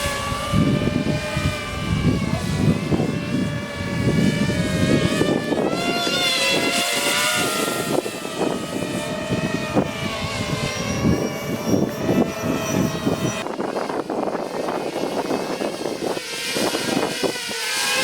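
A TEAL modular smart drone flies nearby, its propellers giving a loud, steady whine with shifting pitch as it manoeuvres and comes in to land.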